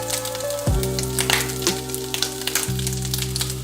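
Eggs dropped into a hot pan with bacon for breakfast sandwiches sizzle and spatter steadily at close range, with sharp crackles over a continuous frying hiss and a low background hum.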